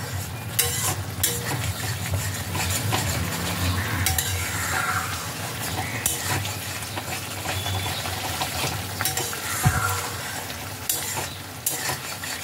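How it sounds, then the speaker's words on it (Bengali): A vegetarian pumpkin leaf paste is stir-fried until its water cooks off, making a dense, steady sizzle with frequent scraping and stirring from a utensil against the pan, close and fairly loud, with no speech. "এবার সমস্ত জলটা টেনে যাওয়া অবধি এটাকে ভালোভাবে কষাতে হবে।"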